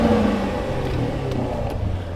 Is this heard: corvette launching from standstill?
yes